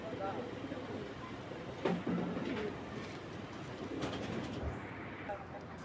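Racing pigeons cooing softly in a loft, low repeated coos under a faint background hum, with a few brief sharper sounds, moderately distant, no clear talk.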